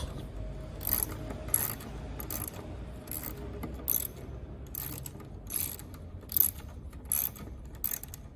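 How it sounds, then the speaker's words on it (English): A ratchet loosens a bolt inside a Peugeot 207 door, making close, repeated bursts of sharp mechanical clicking separated by brief pauses, with no speech. "So I'm just trying to loosen that bolt."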